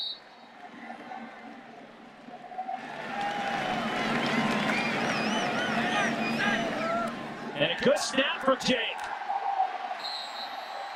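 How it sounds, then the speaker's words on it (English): A college football stadium crowd at a USC game roars into sustained cheering after a snap, a broad swelling wall of noise with a commentator talking over it and sharper bursts near the end. "Listen to the crowd."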